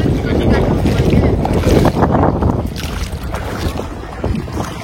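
Wind buffets the microphone while boating on open backwaters where waves rise, giving a steady, loud broadband rush with gusty swells and water movement throughout.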